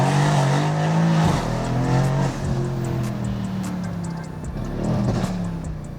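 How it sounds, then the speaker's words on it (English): A loud Mercedes-AMG C63 S engine rumbles close up, its deep exhaust note rising and falling through several revs with popping crackle on the throttle, heard alone without talk. "it's a scary loud car."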